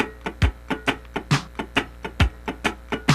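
A funk rhythm guitar scratches muted swung sixteenth notes, alternating long and short attacks, over a steady drum machine groove with a punchy kick, close and evenly rhythmic throughout, with no voices.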